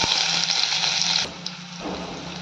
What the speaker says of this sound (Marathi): हिरवी मिरची थोडी परतली की घालूया बारीक चिरलेला कांदा